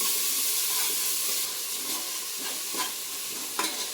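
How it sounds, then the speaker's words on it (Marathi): Finely chopped onion sautéing in a pan for quick pav bhaji, a close, steady sizzle and hiss with a few scraping stirs and light knocks toward the end. "बारीक केलेला कांदा, मस्त असा परतून घ्यायचा."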